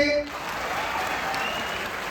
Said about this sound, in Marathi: एकदा जोरदार टाळ्या होत्या स्वतःसाठी